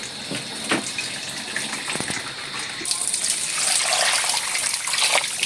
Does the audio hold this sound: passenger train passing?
no